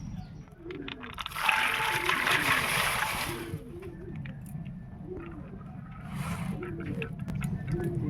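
Dry chana dal, about 200 grams, is tipped into water in a kadai, giving a burst of splashing and pattering that fades into softer trickling and bubbling close by.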